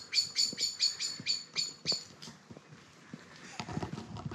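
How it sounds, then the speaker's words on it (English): Birds chirp in quick repeated bursts, about eight sharp tweets in a row, followed by quieter rustling and soft background noise, on Wenlock Edge in Shropshire. "hearing the birds tweet"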